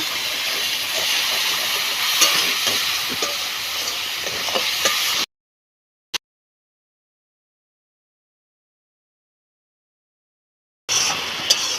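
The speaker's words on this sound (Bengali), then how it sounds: "সামান্য একটু জল দিয়ে মশলাটাকে ভালো করে কষিয়ে নেব" Spiced masala paste for a Bengali fish curry frying with a little water in a pan, a steady loud hiss and sizzle for about five seconds, then near silence broken by one brief click before the sizzling returns.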